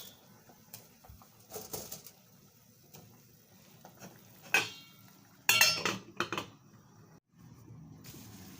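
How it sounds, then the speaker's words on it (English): Meat going into a cooking pot among bits of stock cube in a Lagos home kitchen, heard as a few close clattering knocks and scrapes of pot and utensils, with quiet gaps in between. "So I'm adding the meat to the pot."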